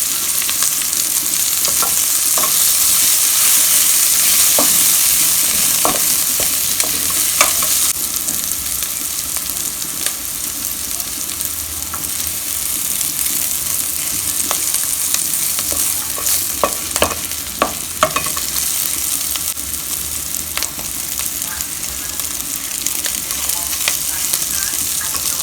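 Thyme fries in a pot with a steady, loud sizzle and hiss, broken by occasional clinks and stirring scrapes, with no voices.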